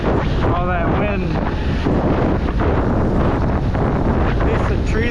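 Heavy wind buffeting the microphone outdoors, a loud constant roar filling the whole stretch, with a voice briefly calling out near the start.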